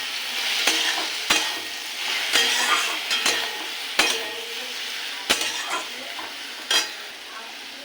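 Ridge gourd frying with poppy seed paste, green chilli paste, cumin powder, salt and turmeric is stirred in a pan: a steady sizzle broken by sharp spatula scrapes and clinks against the metal, close and fairly loud, no talking.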